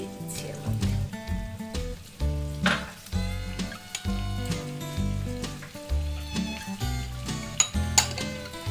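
Tomato and onion frying together in a pan for a South Indian red chutney, a soft sizzle broken by repeated clattering stirs of a utensil against the pan.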